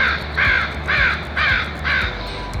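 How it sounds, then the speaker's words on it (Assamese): Crows caw in repeated bursts along an empty street, roughly four harsh calls at an even pace, clear and fairly close against a quiet background. "কাউৰীৰ মাত শুনি মোৰ এনে অনুভৱ হৈছে"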